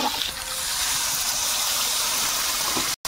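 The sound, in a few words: water poured into frying curry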